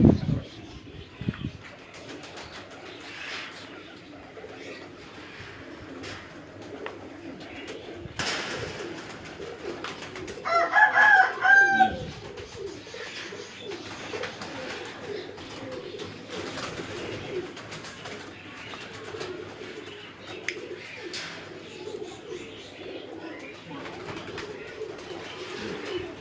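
Pigeons on a Islamabad rooftop coo softly at moderate distance, with a short cluster of calls midway, while people talk nearby through much of the scene.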